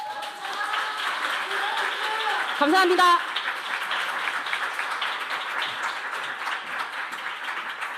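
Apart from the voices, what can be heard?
audience applause for a speaker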